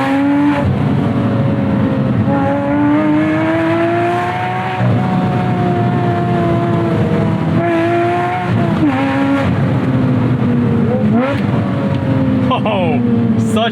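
A Porsche Spyder sports car engine revs hard and steadily, rising and falling in pitch through gear changes and downshifts, loud and close, with a voice speaking over it.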